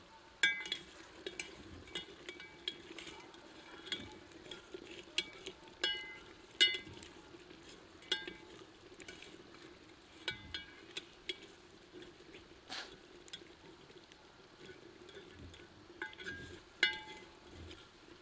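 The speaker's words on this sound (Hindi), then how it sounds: "थोड़ा सा पानी डालकर करछी चला दें और पुनः लोटे को पूरा भर दें" A ladle stirs masala for Himachali bhaddu mutton in a cooking pot, giving irregular metallic clinks and scrapes over a low steady sizzle and hiss from the pan, with no talk.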